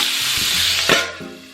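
Frozen spinach hits a pan of hot oil and garlic with a loud, close, crackling sizzle over a short burst, followed by a brief stir.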